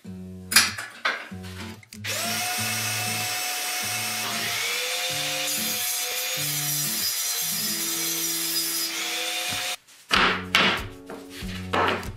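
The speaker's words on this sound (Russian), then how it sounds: "Шлифанули именно с одной стороны" Grinder working one side of vise jaws made from old shock absorbers, loud and close, a sustained whining grind of about eight seconds framed by short bursts and clanks of metal at the start and end.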